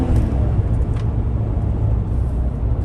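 Inside a moving 2014 GMC Sierra with an injector circuit fault, under full throttle. A loud, steady low engine and road rumble fills the cab without a break.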